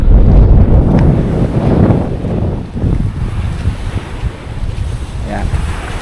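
Ocean waves wash onto a beach on Camiguin Island, Philippines, with strong wind buffeting the microphone, a continuous loud roar of surf and gusts.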